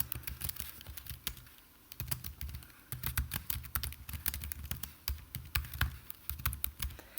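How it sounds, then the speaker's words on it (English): Rapid clicking keystrokes on a computer keyboard as a question is typed, close and clear in irregular bursts with brief pauses between words. "So we're going to type a question."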